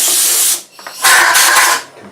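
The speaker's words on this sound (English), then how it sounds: "compressed air." Compressed air blasting out a freshly drilled conduit hole, two loud hissing bursts separated by a brief pause, close by.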